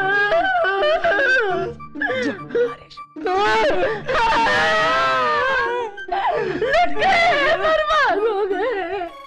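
A woman wails and cries loudly in long, pitched sobbing moans inside a palace in an Akbar Birbal comedy scene, breaking off briefly between drawn-out anguished cries.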